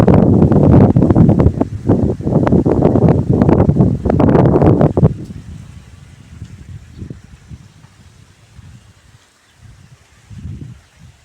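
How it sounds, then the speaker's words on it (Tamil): Natural wind blows hard across farm fields, loud buffeting gusts for the first few seconds, then easing to faint, intermittent rustles. "இயற்கை காற்று சூப்பராக அடிக்குது பாருங்கள் எப்படி அடிக்குதுன்னு"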